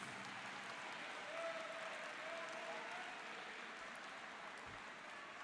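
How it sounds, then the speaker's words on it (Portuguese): Congregation applause during a church sermon, faint and steady throughout with no clear rise or fall. "Pode aplaudir o Senhor Jesus."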